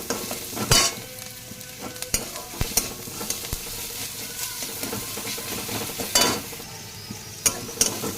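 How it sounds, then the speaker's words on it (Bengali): Ginger-garlic paste stirred in a hot frying pan with fried rice grains while cooking a bhindi dish, giving a steady sizzle with sharp utensil scrapes and clicks against the pan at irregular moments. "আদা রসুন বাটাটা দিয়ে দেবো ওর মধ্যে একটু ভালো করে নাড়াচাড়া করবো"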